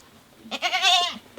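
A goat gives one drawn-out, wavering bleat at close range during a Holi-season livestock deal, preceded by a couple of short grunts, with a sharp noise cutting in right at the end.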